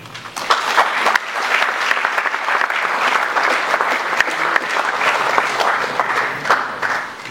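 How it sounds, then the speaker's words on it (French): Audience applause rising from a lecture crowd, a steady dense wash of many hands clapping that carries on without pause at moderate loudness, with no voices over it. "Je crois qu'on devrait applaudir."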